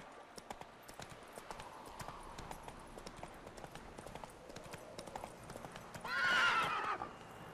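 Faint, steady clip-clop of horse hooves, then a louder horse whinny near the end, in the video game The Witcher 3: Wild Hunt; no talking.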